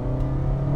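Toyota Yaris XS CVT compact hatchback engine droning loudly at high revs, a steady close engine note with no pauses.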